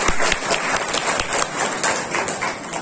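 An audience at an ashram claps continuously to welcome Mohini Ji, a dense, fairly close patter of many hands with no break.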